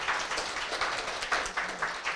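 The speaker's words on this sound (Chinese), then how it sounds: "让我们再次热烈掌声给到两位嘉宾老师。" Audience applause at an afternoon salon in a café, a steady patter of many hands clapping throughout, fairly close and even in level.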